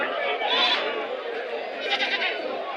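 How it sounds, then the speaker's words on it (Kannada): Sheep and goats bleat amid a busy Saturday livestock market crowd, their calls rising over a dense wash of murmuring voices and chatter throughout. "ಕುರಿ ಮತ್ತು ಮೇಕೆಗಳು ಜಾಸ್ತಿ ಬಂದವೆ"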